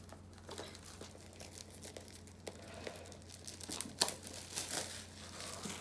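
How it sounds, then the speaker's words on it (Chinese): Plastic wrap film torn off a book and crinkled by hand, continuous close crackling and tearing rustles with a few sharper rips, no talking. "撕开。 这个膜就不要了。"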